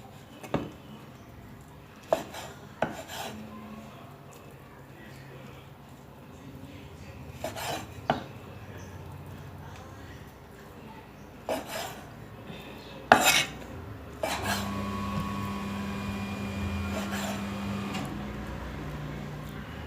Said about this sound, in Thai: เดี๋ยวเราหั่นเนื้อเสร็จแล้ว